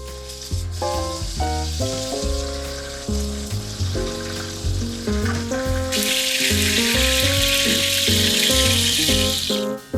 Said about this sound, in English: Frying these chops takes a few minutes.